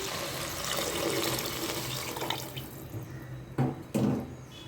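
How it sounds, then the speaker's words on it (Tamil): Water pours steadily into a pot of basmati rice for egg biryani with a broad rushing sound for a couple of seconds, then trails off into a few splashes and clinks. "இப்போ தண்ணி சேர்த்துடலாம்."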